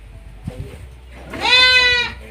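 Goats at a village goat farm, with a single loud, wavering bleat close by after some soft thumps and faint background noise.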